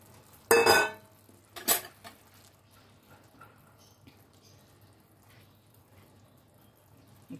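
Katla fish pieces drop into a yogurt kalonji curry in a pan, two clattering splashes close up, then faint simmering and small utensil knocks.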